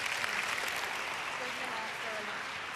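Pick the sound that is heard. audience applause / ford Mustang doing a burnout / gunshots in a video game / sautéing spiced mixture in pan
audience applause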